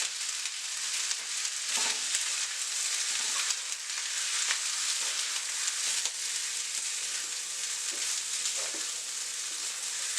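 Dark soy sauce hitting beef fried rice in a hot pan, a steady loud sizzle filling the whole clip with occasional scraping stirs, close and without speech.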